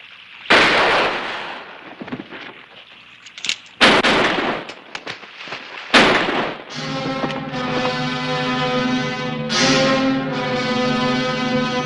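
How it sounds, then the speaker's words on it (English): Gunshots in a Western movie, three sharp, loud cracks spaced a few seconds apart, the last one followed by swelling orchestral music. "Shoot them, both of them."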